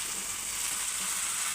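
Boiled prawns going into a sizzling curry masala in a pan, a steady close, even hiss of frying throughout.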